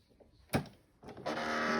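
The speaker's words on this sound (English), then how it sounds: "So I'm just going to pop it into the machine" A sewing machine stitches a fabric cast cover: a short sharp clunk, then the motor starts up and runs as a steady, fairly loud whirring drone to the end.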